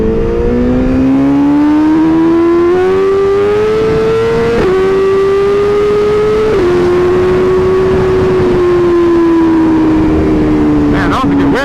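A BMW S1000RR or Kawasaki ZX10R superbike screams through a first-gear wheelie, its loud, close engine note climbing steadily with brief dips at shifts or throttle changes over about eleven seconds, with wind noise throughout.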